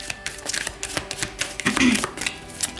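Tarot cards are shuffled and drawn from a deck, a quick flurry of soft papery flicks and taps, close and fairly steady over a couple of seconds.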